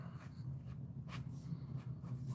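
Crayon scratching across paper in short repeated strokes, close by, over a steady low hum.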